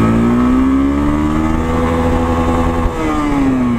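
A Yamaha FZ-S V3 motorcycle engine pulls in first gear on a test ride, a loud close drone rising steadily in pitch as it accelerates, then easing briefly near the end.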